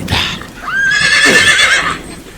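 A horse whinnies loudly and close by, with a few hoof clops, in a Korean audio drama scene set on a rain-slick road, one long rising-and-falling neigh over quiet background.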